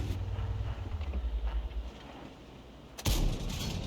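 A single heavy tank cannon blast cracks out near the end, preceded by a low rumbling engine drone and ambient noise, in the video game World of Tanks, from an AMX 50 Foch B.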